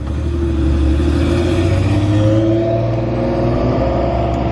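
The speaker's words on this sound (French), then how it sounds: "il y a la SLR Raman Volcano qui arrive derrière" Mercedes SLR McLaren Volcano supercar with six exhaust pipes approaching on a closed road, a loud, steady engine drone with rising tonal harmonics as it builds and nears.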